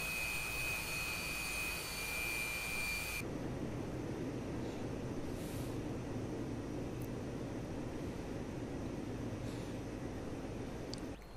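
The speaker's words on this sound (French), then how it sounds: "Allez, on sort les aérofreins." A Su-27 Flanker in the DCS World flight simulator extends its airbrakes, a steady loud roar of rushing air and jet engine that shifts and broadens after a few seconds, continuing as a dense noise throughout with no talk.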